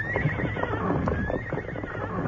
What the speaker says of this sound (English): Then Doc noticed the four horses, ground hitched behind the bank.